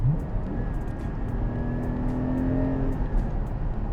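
A Porsche 718 Cayman GT4 on the move, its engine droning steadily from inside the car with a rising tone as revs climb, joined by road and tyre rumble.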